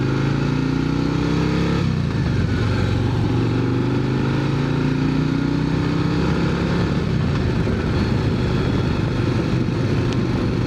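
A Harley-Davidson CVO ST motorcycle ridden at an easy pace gives a loud, continuous engine drone up close, with its pitch climbing and dropping through gear changes.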